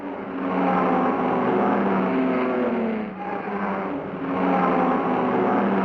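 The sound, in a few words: 1960s sports racing car passing, Fiat 8V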